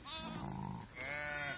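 Qaradolaq sheep with young lambs bleat in two close calls, one after the other with a short pause between, moderately loud against light background noise.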